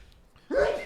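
A single sharp sneeze bursts out after a brief quiet moment, close and fairly loud, with no speech around it.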